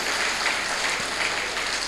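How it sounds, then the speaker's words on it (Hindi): An audience at a spiritual talk claps steadily, a dense sustained round of applause filling the whole span with no speech over it. "हाँ ताली बजा लो, ताली बजा लो,"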